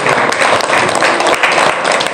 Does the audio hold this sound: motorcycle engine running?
no